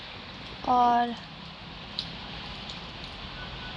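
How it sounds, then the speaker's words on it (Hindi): Steady rain heard through an open window, a soft continuous hiss and patter filling the background, with a brief voice near the start. "ये देखिए, विंडो ओपन करके दिखाती हूँ, ये बारिश हो रही है।"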